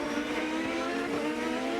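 A 2007 Champ Car race car engine screams at high revs from the onboard camera during the Grand Prix of Houston, a steady loud whine with a dense harmonic buzz and no pause.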